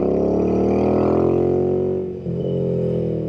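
A Royal Enfield Interceptor 650 motorcycle with an S&S Qualifier exhaust, a close, loud twin-cylinder drone riding steadily, dipping briefly as the throttle eases off, then picking back up.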